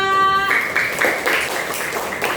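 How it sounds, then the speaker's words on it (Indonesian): Students in a classroom applaud a presenting group with scattered, moderately loud clapping that follows a brief tonal sound at the start and continues unevenly to the end. "tepuk tangan buat kelompok 2"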